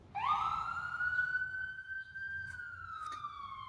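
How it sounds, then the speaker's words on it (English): A siren wails out in the distance, one long, rising and then slowly falling tone, fairly faint, with a few soft clicks toward the end. "Okay, so that siren just went off."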